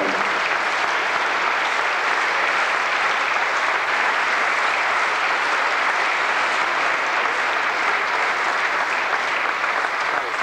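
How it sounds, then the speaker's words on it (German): Loud, sustained applause from a competition crowd fills the hall at a 1985 North German bodybuilding championship as junior athletes hold their front poses on stage, an unbroken wall of clapping with no voices standing out. "Unter unserem Applaus und damit in ihrer beste Frontpose für die Fotografen zu zeigen."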